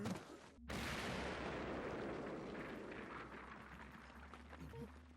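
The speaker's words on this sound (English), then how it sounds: "What was that explosion?" An explosion in the Black Clover anime, a sudden loud blast after a brief gap that swells into a long rumbling roar and slowly fades, with voices talking under it.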